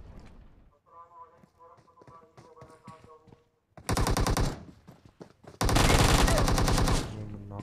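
PUBG video game gunfire comes in two loud, dense automatic bursts, the second longer. A voice talks over lighter tapping sounds beforehand.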